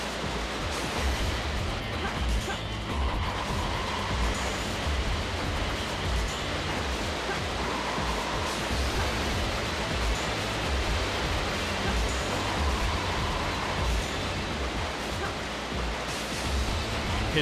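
A waterfall in the Sonic Adventure 2: Battle video game gives a steady, loud rush of roaring water that fills the whole stretch. Faint, brief game tones rise at a few points above the wash.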